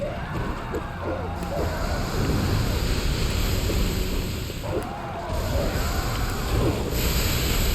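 Ocean surf rolls onto a beach in the Bloodborne game, steady and loud, with two clear wave swells breaking in slow succession over a constant windy wash; no voices.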